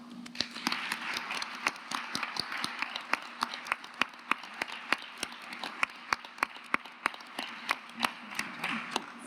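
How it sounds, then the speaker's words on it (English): Quiet applause at a university launch event, sounding as thin, sparse, evenly spaced claps from a small group, heard steadily and faintly, with a low hum underneath. "a really big round of applause for those who have led the development of RECAP thus far"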